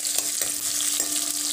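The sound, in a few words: onions and green chillies frying in hot oil with cumin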